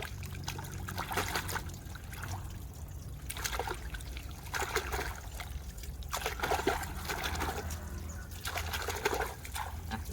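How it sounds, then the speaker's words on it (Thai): Pressurised water rinses soil off the roots of a giant water lily, a steady close trickle and splash that swells and eases as the flow is moved around. "เอาน้ำดัน แล้วก็ล้างล้างเอาดินออกนะครับ"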